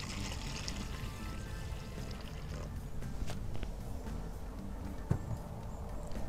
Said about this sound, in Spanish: Entonces agregamos lo último de agua.